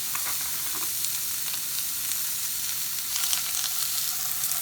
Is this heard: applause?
no